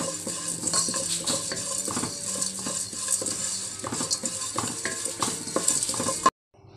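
Pepper, fennel and cumin rattle and scrape as they dry-roast in a hot pan, with a spoon stirring in quick, close, repeated strokes before the sound cuts off abruptly.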